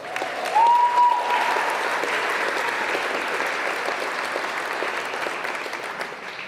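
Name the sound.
applause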